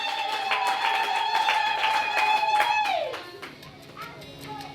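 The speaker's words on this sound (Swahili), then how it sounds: "Mpigie Yesu makofi na vigelegele." In a church, a congregation claps briskly and lets out a high, sustained trilling ululation. The clapping stops and the cry bends downward, leaving a few faint voices afterward.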